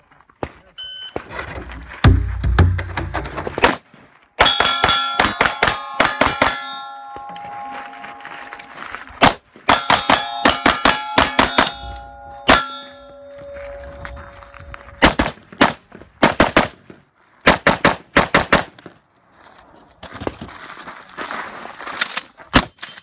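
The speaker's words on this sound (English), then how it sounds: "Nice shotgun, wow!" Shotgun fire at steel targets on a close-quarters shooting course, loud sharp blasts in irregular bursts with bright metallic ringing after hits and quiet gaps between strings.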